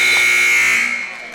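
Loud arena buzzer sounding at the end of a quarter in a women's college basketball game between Faulkner and Pensacola Christian, one sustained harsh tone that cuts off and decays into crowd noise.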